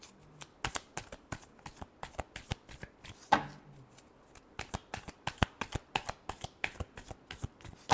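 A deck of tarot cards is shuffled by hand in a quiet room, giving a steady series of crisp riffling snaps and slaps repeating several times per second, with one sharper knock partway through.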